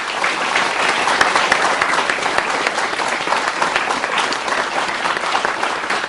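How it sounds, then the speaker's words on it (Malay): A campus forum audience applauds as panelist Iqbal Ismat bin Nordin of Universiti Putra Malaysia is introduced, a dense, loud, steady wash of many hands clapping at once with no voices over it. "Tepukan kepada Iqbal"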